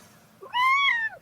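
A cat lets out a single clear meow, rising then falling, close and fairly loud after a brief faint chirp, with no one talking.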